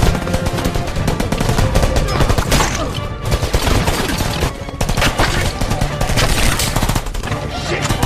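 Dense, rapid bursts of gunfire crackle continuously, loud and chaotic, with overlapping shots and brief dips in intensity.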